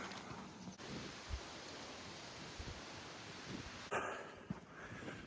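Steady wind gusting across the microphone, a constant rushing roar with a few buffeting bumps and no voices.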